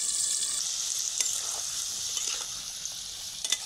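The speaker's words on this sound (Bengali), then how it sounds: "তো তেলটা নেওয়ার আগে আলুগুলো আমি হালকা লবণ দিয়ে ভেজে নিচ্ছি" Potatoes sizzle steadily in hot oil with a little salt, a dense crackling hiss throughout with a few sharper pops near the end, close and fairly quiet, no voices.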